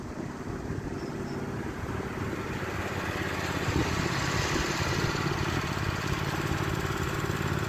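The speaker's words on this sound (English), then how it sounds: "that's the little red tractor out the garage" A small red tractor pulls out of a garage, its engine putting out a steady, moderately distant chugging drone that grows slightly louder partway through.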